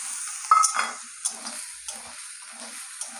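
Garlic paste and onion paste frying in a pan, with a soft sizzle running throughout and a few louder stirring scrapes and clinks near the start, then quieter intermittent stirring.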